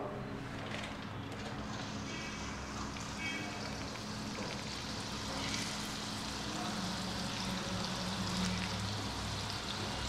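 Jangiri batter fries in hot oil kept at medium heat, giving a steady, even sizzle and crackle that runs throughout without pause.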